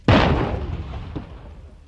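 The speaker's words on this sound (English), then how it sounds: "Firing." A weapon fires one loud, close blast with a long rumbling decay, followed about a second later by a fainter second crack.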